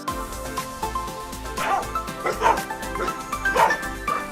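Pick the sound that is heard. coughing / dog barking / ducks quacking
dog barking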